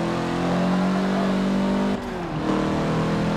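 The engine of a 2004 Mitsubishi Lancer Evolution MR in Forza Motorsport 7 drones loudly at steady high revs on the Nordschleife. It holds a constant harmonic tone and briefly dips as the revs drop around a shift before climbing again.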